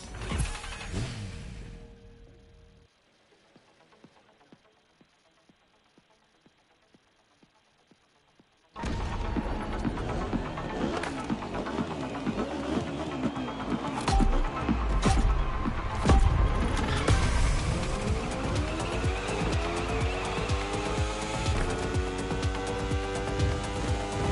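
Racing motorbike engines in The Crew Motorfest, a Red Bull moto event: a short burst of sound, several seconds of near silence, then a loud, continuous engine roar that climbs and falls in pitch through gear changes.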